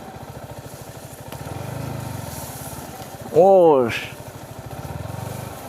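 Motorcycle ridden on an evening ride beside the Padma River, its engine pulsing in a steady close chug, with a person briefly exclaiming partway through.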